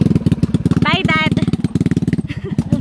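A motorcycle engine putters in a fast, steady rhythm close by on a Philippine goat farm, with a brief higher whine and clatter partway through.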